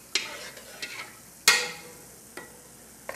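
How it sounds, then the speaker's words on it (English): A spoon stirs roux into a pot on the stove, giving a few scattered scrapes and clinks against a faint sizzle, with one sharper knock midway, close and fairly quiet. "Now I'm going to put this in there, all of this roux, and stir it as I put it in there."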